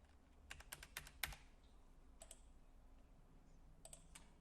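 A password is typed on a computer keyboard as a quick burst of close, light key clicks, a pause, then a few more taps against a quiet background.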